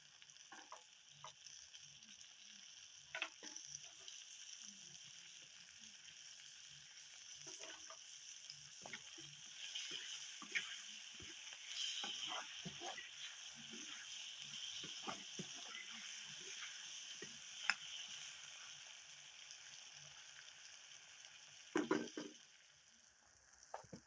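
Tomatoes fry in a pan while cauliflower and potato curry is cooked, giving a steady, moderately quiet sizzle with scattered stirring clicks and scrapes and a louder clatter near the end.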